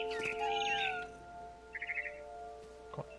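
A cat meows in the video game What Remains of Edith Finch: a drawn-out plaintive meow, then a short burst of bird chirps and a faint later call over a quiet tonal game backdrop.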